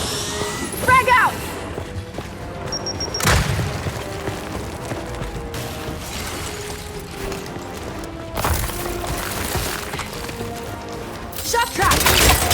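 Frag grenades burst in Gears 5 combat, two or three heavy booms with crackling debris standing out over continuous battle noise and shouted voices.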